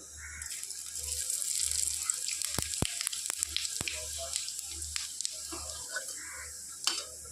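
Oil sizzles steadily in a pan as chili and then cumin fry, with a few sharp clicks and scrapes of a utensil; no talking.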